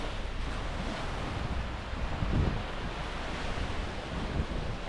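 Sea waves washing onto the beach at La Union, a steady broad roar of surf with wind buffeting the microphone, one slightly louder wave surge in the middle, continuous and close.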